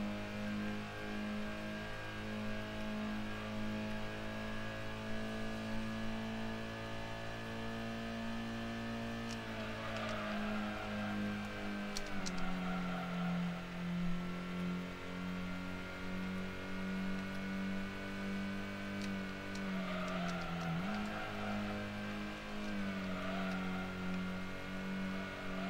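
A racing car engine in the Gran Turismo video game holds a steady loud drone, pitch shifting with gear changes while accelerating through a B licence test, continuous and without talk.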